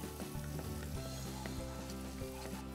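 Chopped garlic and onion sauteing lightly in a pan for cauliflower soup, a steady close sizzle with faint stirring running throughout.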